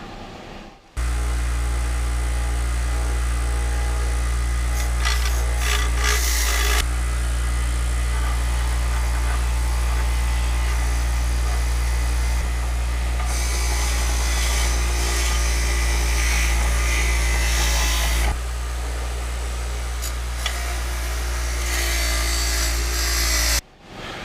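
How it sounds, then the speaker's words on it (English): A bench grinder cleans old paint and rust off Stanley Type 20 No. 4 hand plane parts, a loud continuous motor whine with harsher grinding passages as metal is pressed to the wheel, starting and stopping abruptly. "So we're just going to clean some of this up on the bench grinder and do some of these little bits."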